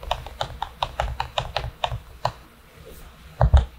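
Mechanical trackpad on a Dell XPS 15 (9500) laptop clicking repeatedly without registering: a quick series of sharp, close taps, a pause, then a final louder pair of clicks.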